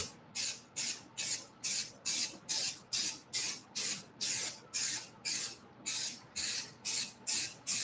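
A spray gun in a shop fires short, even bursts of hissing spray held close to the surface, about two per second, loud and near with no talk.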